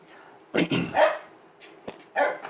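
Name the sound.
dog barking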